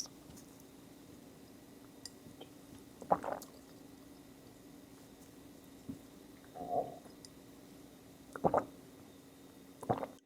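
Someone takes several sips of water filtered through a Ninja HydraSense filter, producing soft intermittent gulps and swallows with quiet pauses between them in a still room.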